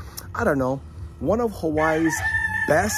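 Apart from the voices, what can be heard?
roosters crowing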